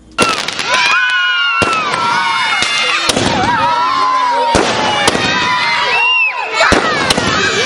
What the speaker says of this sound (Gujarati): ફટાકડા વગેરે ફોડી બાળકો સાથે આનંદ કરી